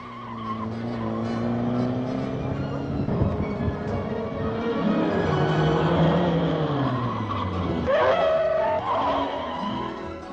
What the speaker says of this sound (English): This skid pad with oil and water to make it really tricky gives them plenty of practice.